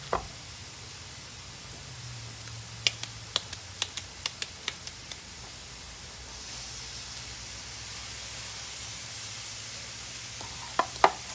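Meatballs sizzling in a frying pan as more are added, a soft steady sizzle with a series of sharp clicks and taps as pieces are placed in.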